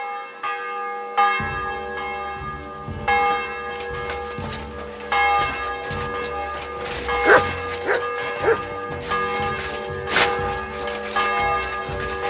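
A dog barks several times in the medieval game Kingdom Come: Deliverance 2, short yips and barks over ringing church bells and a busy game soundscape.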